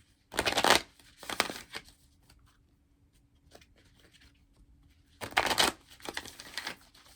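A Mystical Shaman Oracle card deck being shuffled: two quick papery riffling bursts close to the microphone, a quiet pause with faint handling, then another pair of crisp riffles.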